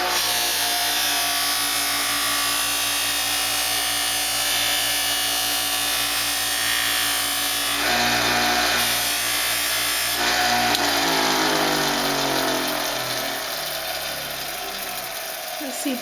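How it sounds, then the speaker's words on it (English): A cotton buffing wheel spins steadily while polishing a wood carving tool with fine buffing compound, giving a continuous loud whirring hum with rubbing friction; a voice talks over it partway through. "There's two different buffing wheels."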